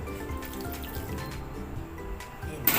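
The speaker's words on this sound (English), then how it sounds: "I'm going to add a little bit of water" Water pours from a tap into a saucepan holding pork on a gas stove, a steady close splashing flow that runs throughout and swells briefly at the end.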